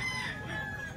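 A rooster crows once, close and fairly loud, a short drawn-out call against faint background noise.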